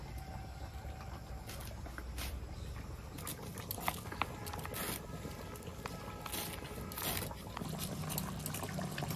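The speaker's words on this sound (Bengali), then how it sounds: "মাংসটা তো জল দিয়ে আমার এখন আরো 7-8 মিনিট ফুটিয়ে নিতে হবে।" Chicken simmering in water in a pot, a steady low bubbling and patter with small scattered pops and clicks, close and moderately quiet throughout.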